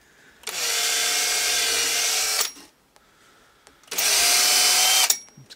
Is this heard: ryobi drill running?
yes